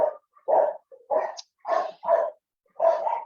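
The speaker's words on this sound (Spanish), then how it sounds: "Ya saben que mis perros de pronto hacen escándalo." Several dogs bark at home in a loud, close burst of about six sharp barks with short gaps, heard alone with no talk over them.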